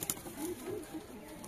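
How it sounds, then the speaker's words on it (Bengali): Pigeons coo softly in a short, faint burst of low murmuring calls, somewhat distant, with no clear talking over them. "হ্যাঁ তো ফেন দাদার অনেক পায়রা আছে, ম্যাডাসি পায়রা, ভালো পায়রা আছে।"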